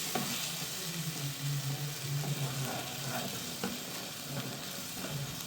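Onion masala sizzles steadily in a pan after a splash of water goes in, with soft stirring scrapes, for butter chicken. The frying hiss stays close and even throughout, with no talking.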